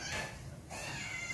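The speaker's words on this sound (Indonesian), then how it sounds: "sorry ada suara kucing pula" A cat meows indoors in a room where makeup is being done, a soft, fairly faint call blended into steady background noise, heard alone without speech.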